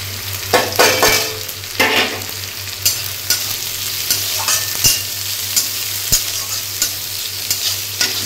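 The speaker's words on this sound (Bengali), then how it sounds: "আর পেঁয়াজ কুচিগুলো দিলাম" Chopped onions hiss in a frying pan, a constant close sizzle punctuated by sharp knocks and scrapes of a spatula stirring them.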